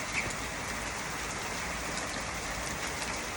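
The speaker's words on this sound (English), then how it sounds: "Look at this rain" Steady rain falls outdoors as a dense, even hiss with soft patter of drops, continuous and fairly close, with no voices over it.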